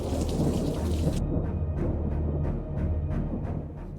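A British thunderstorm rolls on with deep, sustained thunder rumbling under a constant wash of heavy rain, loud and enveloping, with faint repeated ticks of drops striking a nearby surface.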